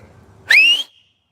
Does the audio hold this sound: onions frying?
no